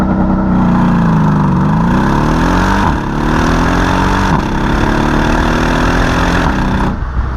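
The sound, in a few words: sports sedan V8 engine with exhaust, idling and revving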